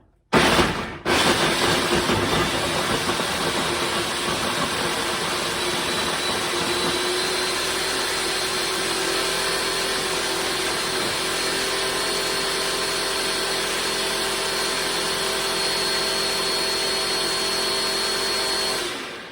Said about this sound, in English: take my top of my food processor and I'm gonna do it on high